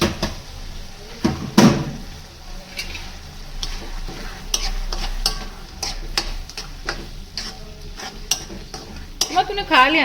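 Onion and tomato fry in a pan, with a steady sizzle and frequent scraping, clattering stirs that grow busier toward the end, close and fairly loud, with no talking.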